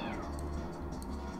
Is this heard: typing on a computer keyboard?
no